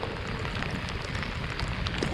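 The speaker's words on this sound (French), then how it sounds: "Ah bah on s'amuse bien sous la pluie hein." Steady rain falls while cycling on a road trip from France to Norway, a dense continuous hiss and patter close to the microphone with no talking.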